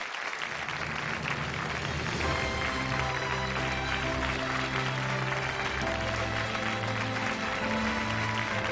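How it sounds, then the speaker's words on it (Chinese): A television studio audience claps steadily for an arriving guest, dense continuous applause filling the room while musical tones swell in beneath it after a couple of seconds. "掌声有请"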